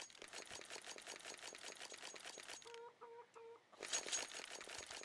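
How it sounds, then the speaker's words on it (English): Chickens cluck on the Inferno map in Counter-Strike during a Complexity vs Cloud9 esports match, with several short clucks and squawks mid-clip between stretches of dense, rapid game noise. "Very noisy chickens."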